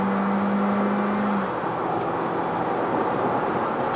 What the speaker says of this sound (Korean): 가속 페달은 바닥까지 붙였고요.